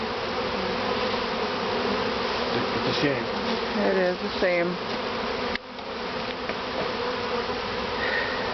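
Honey bees buzzing around an opened top bar hive during a honey harvest, a dense, continuous close hum with a few brief words spoken over it.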